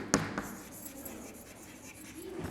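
A teacher writes a question out by hand in a classroom, a few short scratchy strokes close by, with no talking over them.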